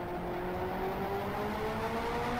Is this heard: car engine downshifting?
yes